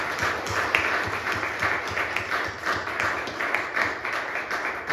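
A congregation at a Sunday church service claps steadily and fairly loudly, many hands merging into a continuous, slightly rhythmic applause that runs for several seconds.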